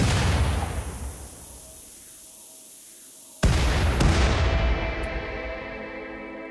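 Grenade explosions in the colony-survival game Rimworld, set in an extreme desert: a rumbling blast fades out, then a sharp new detonation hits with a long roaring decay, with a further crack shortly after.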